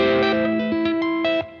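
Electric guitar tapping run through effects, a quick sequence of bright, sustained notes with a chorused, distorted shimmer, each note ringing into the next before fading out at the end.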